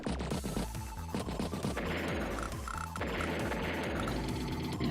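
A tank attack in the strategy game Advance Wars by Web bursts out as loud, rapid thuds and crashes of cannon fire over a rhythmic game soundtrack.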